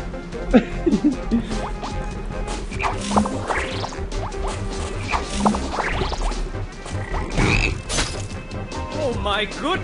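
A frog croaks in the Battle Block Theater video game, short croaks mixed with game crashes and thwacks while players talk over the action.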